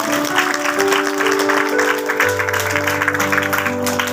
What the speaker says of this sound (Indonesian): Tepuk tangan sekali lagi, tepuk tangan buat.